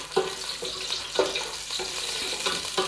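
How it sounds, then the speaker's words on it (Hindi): Cardamom pods frying in a pot, a soft steady sizzle broken by regular scraping stirs about every half second, fairly quiet and close. "ये हमने खोल के डाल दी इसमें इलायची, ठीक है। अब इसको हम थोड़ा सा फ्राई कर लेते हैं।"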